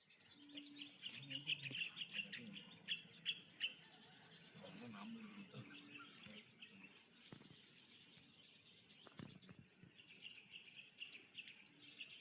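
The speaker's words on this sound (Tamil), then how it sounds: "குருவி, இந்த பறவைகள்லாம் கத்துற சத்தம் எவ்வளோ ஒரு அற்புதமாக கேட்குதுன்னு பாருங்கள்." Sparrows and other birds call and chirp along a misty mountain trail, bright tweets clustered near the start and returning toward the end, with faint insect hum and rustling beneath.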